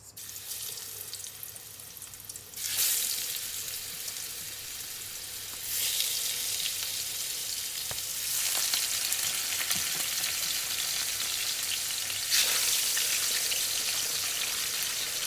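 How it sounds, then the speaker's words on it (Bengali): Fish coated with salt, turmeric and chili frying in hot oil, a loud steady sizzle that swells in stages as more pieces go into the pan, with no talking. "এই মাছগুলো আমি ভাজি করব।"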